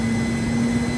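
A Bell 429 GlobalRanger helicopter starting up with its blades beginning to turn, giving a steady, close turbine whine over a low rumbling drone, unbroken and fairly loud for a brief moment, with no talking.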